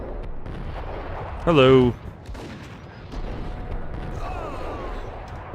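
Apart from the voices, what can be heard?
gunfire in the video game Max Payne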